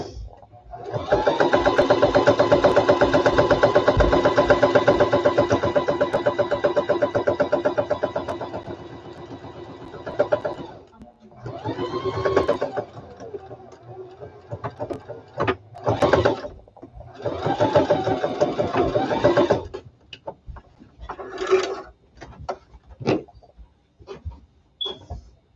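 A sewing machine runs in a long, loud, close burst while backstitching a fabric face mask, then stops and starts in shorter runs with clicks between.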